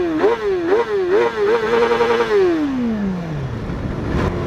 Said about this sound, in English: I'm going to do a bit of a rev bomb here anyway.